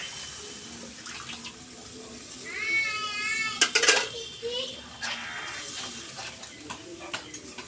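Water is poured into a pan of singi fish being fried and reduced, giving brief splashing bursts, while a cat meows nearby and a faint voice is heard in the background.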